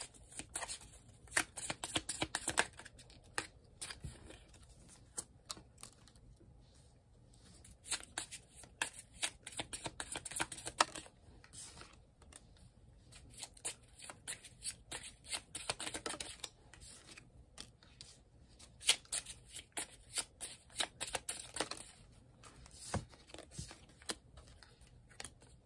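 Tarot cards being shuffled close by, quick papery riffles and flicks in irregular bursts with short pauses, faint and alone without talk.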